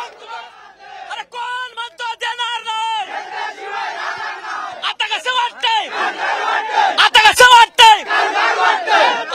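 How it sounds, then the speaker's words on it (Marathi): BJP party workers celebrate a Sindhudurg District Bank election win in 2021 with loud, rhythmic chanted slogans and cheering from a close crowd, voices rising in bursts, with sharp cracks near the end. "आपण पाहतोय भाजप कार्यकर्त्यांचा जल्लोष"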